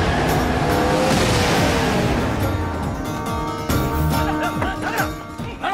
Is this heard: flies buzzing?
no